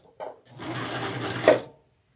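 Quilt block pieces are stitched together on a sewing machine with a quarter-inch seam: a brief preliminary whir, then a steady close run of about a second before it stops.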